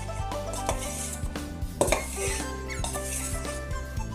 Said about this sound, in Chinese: 咱把鸡血呀给它划成小块